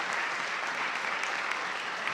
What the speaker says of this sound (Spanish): felicidades para todos ustedes con un fuerte aplauso